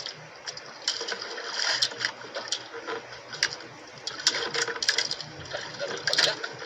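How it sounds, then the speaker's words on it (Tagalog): Engines of bangka outrigger boats hum low and steady at sea during a grouper fishing trip, with faint clattering and splashing under intermittent talk. "Daming bangka."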